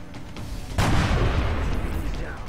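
A single sniper rifle shot fired in the strategy video game XCOM: Long War, a sharp loud blast that bursts out suddenly and then holds as a broad rumbling roar.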